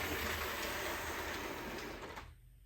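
A model railway train runs along a computer-automated layout, giving a steady rolling clatter and hum that holds for about two seconds and then drops off sharply to quiet.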